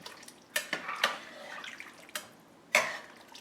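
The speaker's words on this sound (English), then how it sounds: "Give this a stir." A spoon stirs Thai chicken soup made with broth in a pot, giving faint liquid sloshing and a few sharp clinks against the pot's side, quiet and close, with no voices.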